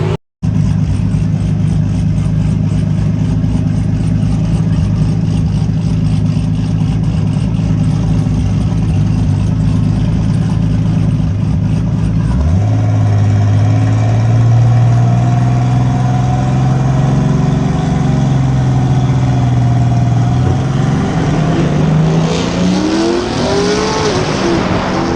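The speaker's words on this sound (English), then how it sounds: "I pulled up to do my burnout and the car struggles to get the tires going" A gold Datsun drag car rumbles at a loud, close idle at a race track, then the engine note climbs sharply as it revs and launches, with rising harmonic whine near the end.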